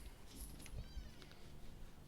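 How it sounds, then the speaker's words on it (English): A pet cat meows a few short times, faint and somewhat distant, over quiet background noise. "Naughty cat."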